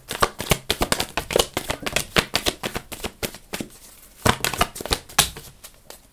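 Tarot cards being shuffled close up, a rapid series of crisp riffling and slapping bursts with brief pauses between shuffles.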